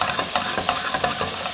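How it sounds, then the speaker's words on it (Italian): Small meatballs sizzle steadily in a frying pan, with a dense continuous hiss broken by light rhythmic stirring scrapes, close and fairly loud with no voices. "Andiamo a cuocere le polpettine in padella."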